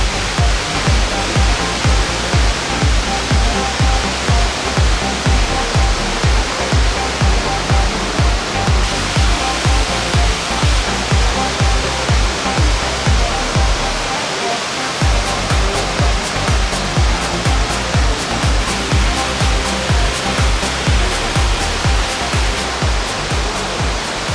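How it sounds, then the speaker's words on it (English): Steady, loud rush of falling water from the man-made Cola de Caballo waterfall near Villa de Santiago, Monterrey, a continuous broadband roar that barely changes across the whole stretch with no voices over it. "It is basically man-made from many, many years ago, but it is not a natural waterfall"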